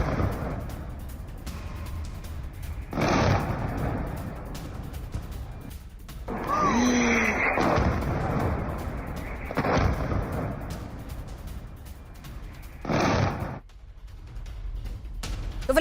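Several loud, heavy booms from a large explosion near Jerusalem burst out one after another, each a broad rumbling blast with a short tail, over a steady low background roar.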